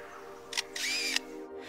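A lyrebird mimicking a camera shutter: two quick mechanical clicks, the second a longer whirring burst, close and crisp over a faint steady hum.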